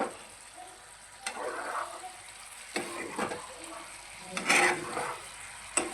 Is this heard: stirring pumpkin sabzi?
yes